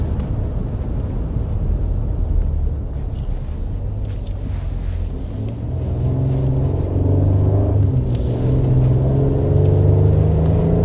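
A 2026 Nissan Armada Nismo full-size SUV with a 460 hp engine is thrown hard through a corner on a back road, its steady low rumble building and growling louder toward the end.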